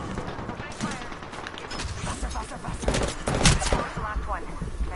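Rapid bursts of gunfire in the video game Apex Legends, loud and clustered into fusillades, with a player's voice talking over the shooting.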